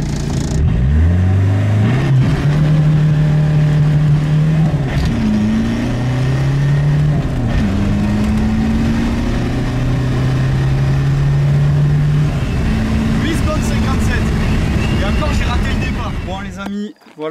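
A diesel car engine revs loudly through a 0–100 acceleration run, its pitch climbing in repeated rising sweeps as it shifts through gears, close and continuous, dropping off abruptly at the end.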